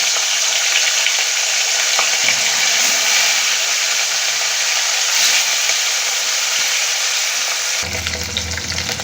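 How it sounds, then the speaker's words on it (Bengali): Rohu fish pieces frying in oil make a loud, constant hiss and crackle close by that keeps going without a break, with a short shift in tone near the end and no voices. "দেখুন সব মাছগুলো লাল লাল করে ভাজা হয়ে গেছে"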